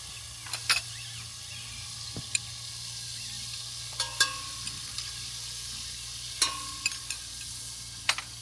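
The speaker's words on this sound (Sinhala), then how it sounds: "බටර් ටික හොඳට දිය වෙනකොට එකතු කරගන්න අනියන් ගාලික්" Onion and garlic fry gently in melted butter in a pan for Thai-style coconut rice, a soft steady sizzle broken by scattered sharp clicks and scrapes of stirring.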